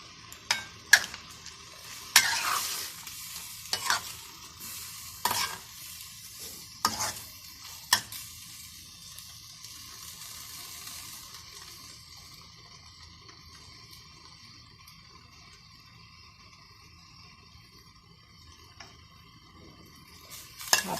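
Broccoli and mushrooms are stir-fried in a pan, heard as a quiet, steady sizzle. Sharp utensil scrapes and clinks against the pan break in at irregular intervals, with no talking.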